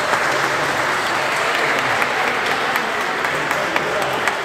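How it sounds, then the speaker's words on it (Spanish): A crowd at a poolside swimming race in La Cumbre applauds the race officials with steady, dense clapping that holds at an even level throughout, with no pauses. "Quiero pedirle un fuerte aplauso para los planilleros que tenemos el día de hoy."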